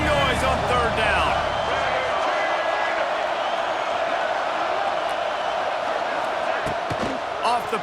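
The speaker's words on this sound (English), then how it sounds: "This dog crowd is off the leash, and they are coming after them, bringing noise on 3rd down" A stadium crowd at a college football game against Bama roars steadily on third down, a dense wall of cheering with a commentator talking over it.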